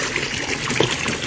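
Water gushing steadily from a hiking trail fountain in the Swiss Jura, a loud, close, continuous splashing rush with no voices.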